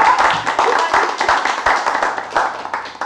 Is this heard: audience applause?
yes